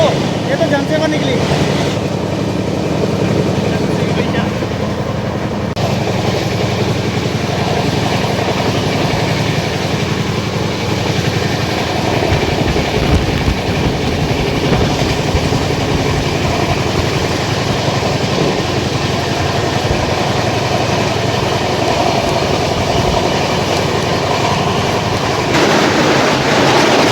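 Jansewa Express train passing near Yamunanagar Jagadhri, heard from inside another moving train: a loud, continuous rumble and clatter lasting throughout, with faint talk beneath.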